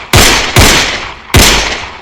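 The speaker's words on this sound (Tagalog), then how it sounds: "bigla na lamang pumutok ang mga putok ng baril." Three loud, sharp gunshots ring out close by, each followed by a long decaying echo, with an irregular gap between the second and third.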